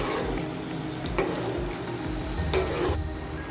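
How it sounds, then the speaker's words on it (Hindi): Mutton heart and liver frying on a flat taka tak pan while being stirred and chopped, a steady sizzle broken by repeated scraping and clanking strokes of the spatulas. "इस तरह हम इसे टकाटक की मदद से फ्राई करेंगे"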